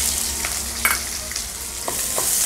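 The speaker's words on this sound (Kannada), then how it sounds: "ಈರುಳ್ಳಿ ಕೂಡ ಸ್ವಲ್ಪ ಫ್ರೈ ಆಗಲಿ." Sliced onion frying in hot oil with mustard seeds, garlic and dry red chillies: an even, close sizzle with a few light scrapes and taps of a stirring spoon, no one speaking.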